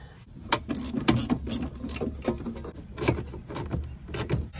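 Bolts being fastened during reassembly, a run of close ratcheting clicks and metallic clanks coming in uneven bursts with no voices.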